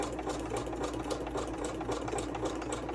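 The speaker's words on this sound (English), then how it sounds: "then go around and do some touch-up sewing for anything that's still sticking up" A sewing machine runs steadily, stitching fabric for a fabric masterboard embellishment, with a continuous rapid mechanical whir and fast needle chatter, close and alone throughout.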